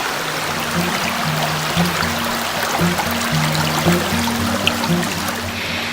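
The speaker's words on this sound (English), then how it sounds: "This is Justice Creek." A flowing creek on the Appalachian Trail in Georgia gives a steady, close rushing murmur of running water, with faint tonal sounds layered over it.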